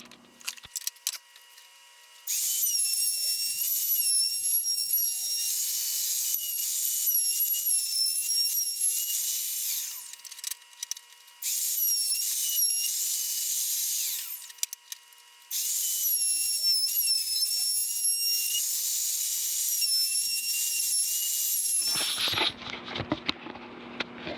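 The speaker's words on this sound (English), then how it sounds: "I'll get the sander on that and sand that off." An electric sander whines steadily in long stretches with brief pauses, its high buzzing drone close and fairly loud as it works across an oak board.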